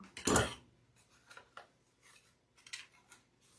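Scissors snipping a flower stem while assembling a daisy wreath, one crisp close cut followed by a few lighter clicks and rustles of handling.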